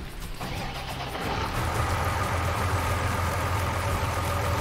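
Tractor engine running steadily in the farming game Irgendwo in Thüringen 2, a continuous low rumble that swells slightly after the first second and then holds a constant drone, with no talk.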